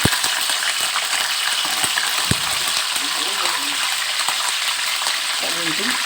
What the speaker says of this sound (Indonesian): udah langsung kita goreng aja seperti ini